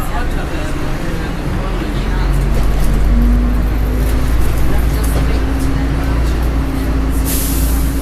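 Tour bus pulling up at the Trinity College stop in Dublin, Ireland, a steady low engine rumble and road noise filling the cabin, with a brief hiss near the end like an air brake.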